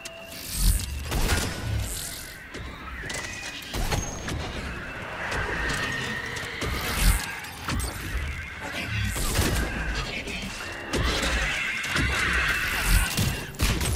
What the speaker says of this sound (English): Grab, fire explosion, shot.